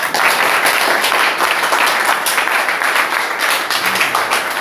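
A congregation applauds for the Lord at a church gathering, a loud, dense wash of clapping that carries on without a break.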